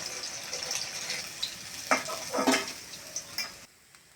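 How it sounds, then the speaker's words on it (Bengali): Steady sizzle of khoira fish frying in a pan with a few clinks and stirring scrapes, close up, ending abruptly. "এবার খয়রা মাছটা ভেজে নেব"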